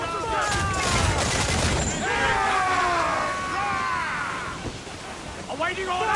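Naval combat in the video game Assassin's Creed Black Flag, with a dense rumble of ship cannon and mortar fire and booming blasts while crew voices shout over the din.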